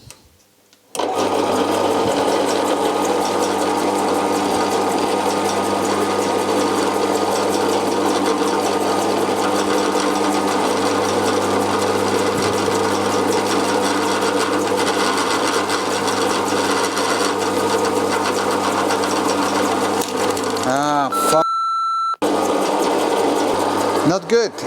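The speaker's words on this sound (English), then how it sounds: "So let's drill it out and see." A power drill boring a hole through an old rusty engine part during a cylinder-head rebuild: a loud, steady whirring grind held for about twenty seconds, then cut off, followed by a brief whine and a few clatters.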